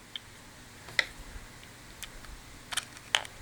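Screwdriver driving a small screw into the plastic battery lid of a kids' toy robot, a few sparse light clicks and ticks, faint and close, with no voices.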